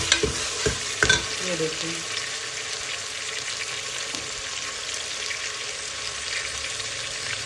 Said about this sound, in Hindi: हम सॉल्ट ऐड करेंगे और इसको मिक्स करते हैं